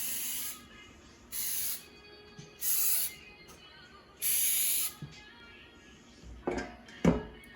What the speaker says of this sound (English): you're gonna spray it with non-stick spray